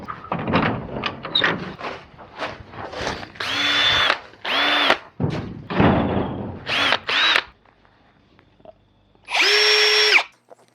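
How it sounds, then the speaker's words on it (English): A brushless power drill whirs in several bursts, short pulses at first and then longer sustained runs with a steady high whine, loud and close, with gaps between. "So that's like a fairly decent drill. It's a brushless one. So much faster."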